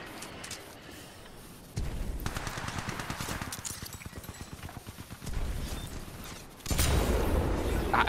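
Gunfire in the video game Titanfall: dense, rapid automatic bursts rattling almost continuously, loud and close, growing heavier near the end.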